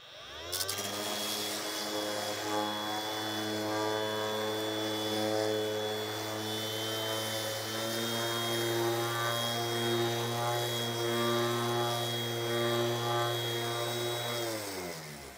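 A Parkside Performance PAESP 12-Li A1 cordless eccentric sander runs at speed setting 2 on dry wood, a loud, steady, close motor drone with a thin high whine, starting abruptly and cutting off near the end.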